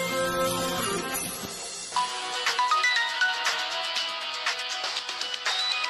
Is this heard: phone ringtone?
yes